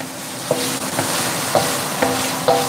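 Celery sizzles steadily in a hot pan, with a few soft stirring knocks at regular intervals over the continuous frying hiss.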